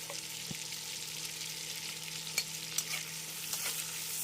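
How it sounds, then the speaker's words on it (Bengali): Bay leaf and panch phoron spices crackle and sizzle in hot oil in a pan, a steady close frying hiss with a few sharp pops scattered through it, no voices. "এবার ফোড়নে দিচ্ছি তেজপাতা, 5 ফোড়ন"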